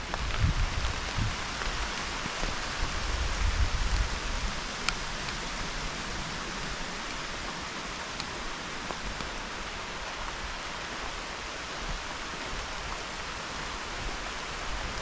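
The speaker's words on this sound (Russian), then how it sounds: "Дождичек зарядил." Light rain falls steadily in a forest beside a stream in mid-June, making a soft, even hiss of drops on leaves and ground that continues throughout without pause.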